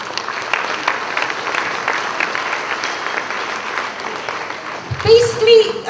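Steady crowd applause fills a real estate awards ceremony hall at moderate volume, then a voice begins speaking over it as the clapping fades near the end.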